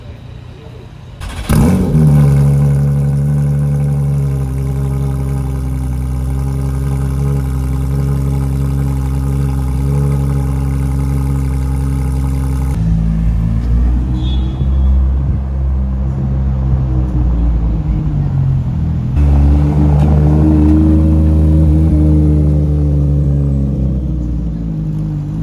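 A supercar on a Paris street outside the Peninsula hotel at night idles with a deep, loud engine rumble, then rises into sustained revving that drops and swells again, heard close and alone.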